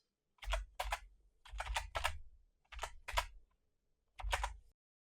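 Keys tapped on a computer keyboard, several short bursts of quick clicking separated by brief pauses, close and clear in a quiet room.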